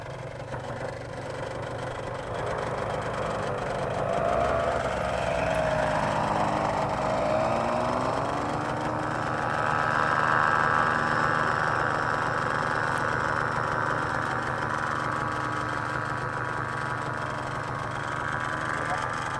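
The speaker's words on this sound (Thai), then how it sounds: "เปิดเครื่องใหม่นะครับ" A paramotor engine runs steadily at a loud, sustained drone after being restarted outdoors, its pitch rising and holding higher partway through as the throttle comes up, with voices talking over it.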